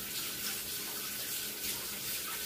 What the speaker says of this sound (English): Rinse his hands off right quick.